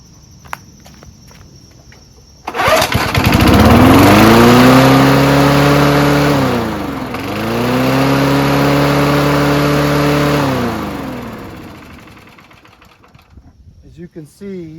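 A vintage 1974 Ransomes Bob-Cat push lawnmower with a Wisconsin 4HP engine snaps to life and races loudly close by, its revs surging up, dipping, then climbing again before fading out, with a voice speaking partway through.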